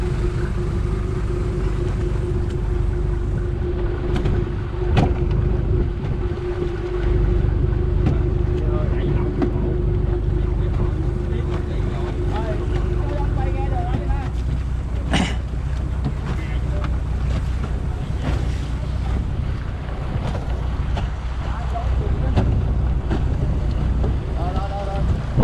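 Fishing boat motoring on the open sea during a fishing trip, a steady low engine drone with wind buffeting the microphone and waves washing past, a few sharp knocks on the hull, no talk.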